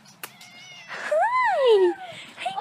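A half-feral farm cat gives one long, clear meow close by, with a voice calling out just before and soft rustling around it.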